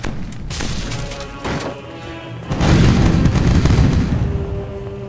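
Cannon fire from a fort in the pirate game Age of Pirates: Caribbean Tales, heard as heavy booming blasts with a loud sustained explosion rumbling through the second half, no talking.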